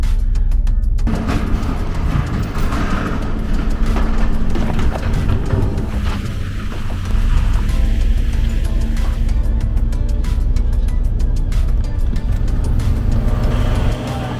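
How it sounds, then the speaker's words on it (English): A van climbs a steep gravel slope with a steady, loud engine drone and road rumble close up throughout, crunching and rattling over the loose surface without a break. "But we're gonna see how our van does going up this slope on this gravel."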